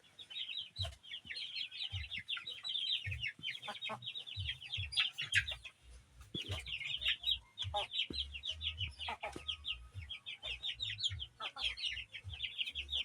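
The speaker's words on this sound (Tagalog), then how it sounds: "Itong mga manok natin mga idol, wala pang mga balahibo." Young, still featherless Texas and Basilan chicks chirp and cluck nonstop. A dense chorus of shrill peeps comes from close by, over soft low thumps and scuffling.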